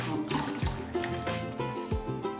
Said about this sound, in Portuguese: eu vou colocar um pouquinho de água aqui, ó